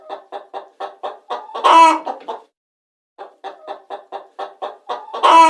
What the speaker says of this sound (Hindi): यह है hen, मुर्गी।